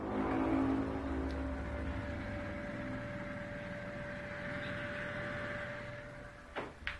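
A steady high-pitched electronic whine hums over a constant whirring power adapter cooling fan, close and continuous, ending with a couple of soft clicks.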